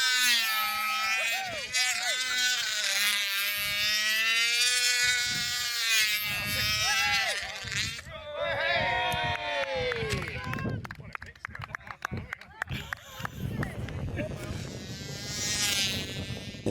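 A control line model aircraft engine flies aerobatics in County Cork, a loud, high-pitched buzzing whine that wavers up and down in pitch as the plane circles, then gives way to rougher, broken noise.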